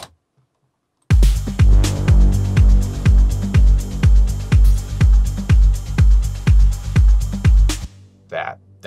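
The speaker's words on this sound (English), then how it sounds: "That big bass wash sound." A deep progressive dance-music bass wash, or bass fart: a loud, booming low synth tone pulsing in a steady run of swelling hits for about seven seconds after a short silence, then cutting off.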